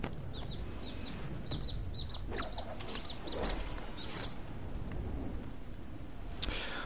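A baby chick, newly hatched, chirps in quick, high, repeated peeps held close by, rising above a steady background noise before falling quiet.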